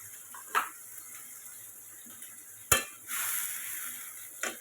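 Eel fish fries with onion and ginger paste in a pan, giving a quiet sizzle broken by a few sharp utensil clacks and a brief louder burst of frying near the end.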